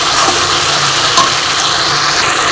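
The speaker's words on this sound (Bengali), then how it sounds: "মশলাটা এবার একটু ভালো করে কষিয়ে নিতে হবে" Spice paste with onion and green chilli being stir-fried in a pan for a fish roe fritter curry. Steady close sizzle with scraping stirring throughout, loud and continuous.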